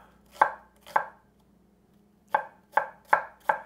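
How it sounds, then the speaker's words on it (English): A knife cuts thin slices of small onions on a cutting board, making six crisp, evenly spaced chops in two groups, two and then four, close and clear against a quiet background. "I'm going to cut those thin like this."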